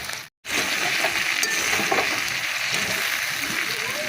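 Pumpkin vegetable curry frying in a wok gives a loud, steady sizzle with stirring scrapes and faint clinks, after a brief silent gap at the very start.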